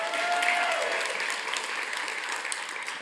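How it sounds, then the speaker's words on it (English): An audience at an awards honoree event applauds steadily, a dense wash of clapping from a crowd that holds for the whole stretch before easing slightly at the end. "I just want a round of applause for Tomoko"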